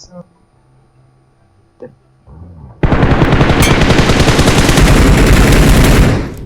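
Sustained automatic gunfire in the PUBG Mobile game erupts after a quieter stretch of game sounds, a dense loud rattle of rapid shots lasting several seconds before cutting off.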